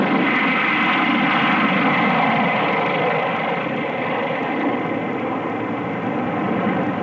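A B-45 light bomber's jet engines give a steady, loud, broad roar for the whole stretch, a continuous drone that only slightly changes in strength.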